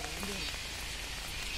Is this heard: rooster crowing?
no